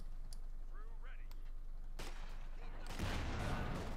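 Machine gun fire in the World War II strategy video game Company of Heroes 2, short sharp bursts, the loudest at the end, under a broad battlefield din with a commentator's voice in the background.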